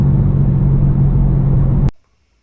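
BMW M4 running Dinan Stage 2 tune driving hard, a loud steady engine rumble and drone throughout that cuts off abruptly near the end, leaving near silence.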